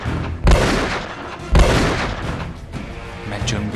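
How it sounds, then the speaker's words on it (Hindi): Two loud, close gunshot booms about a second apart, each followed by a long rumbling decay, with a softer crackle after them. "पर बंदूक से निकला वो शोर"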